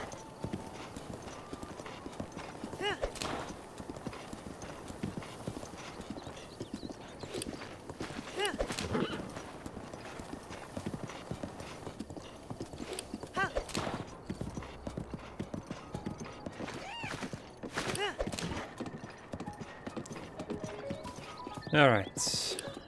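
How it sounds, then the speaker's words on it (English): Hooves clip-clop steadily as a horse trots in Zelda: Breath of the Wild, with a brief neigh or whinny near the end, mixed with game ambience and a voice talking over it. "Let's go and call my horse"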